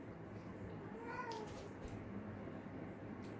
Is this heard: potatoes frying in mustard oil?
no